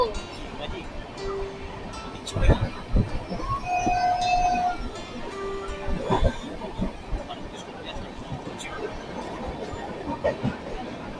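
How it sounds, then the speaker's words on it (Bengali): A passenger train pulls out of Howrah station with rumbling, clattering wagons and brief horn blasts, while voices chatter nearby over the rolling noise. "আটটা পঞ্চান্ন বাজে ঠিক প্রপার টাইমে হাওড়া থেকে এই ট্রেন ছেড়ে দিল"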